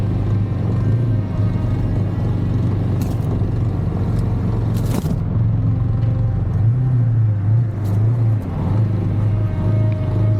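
An off-road motorcycle on TKC 80 tyres, its engine rumbling steadily with wavering revs over rough ground, accompanied by occasional scrapes and knocks and a constant wind-like rush.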